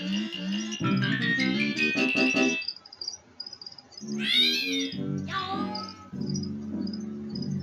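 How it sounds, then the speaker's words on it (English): A cartoon cat meows and yowls in the video game Pac-Man 2, several drawn-out cries separated by pauses, set against bright game music and chirping effects. "He gets attacked by the cat again."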